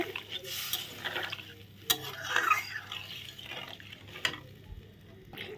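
Papaya kofta curry gravy with water cooking in a pot, a low steady bubbling and stirring sizzle close by, with a couple of sharp utensil clinks against the pot.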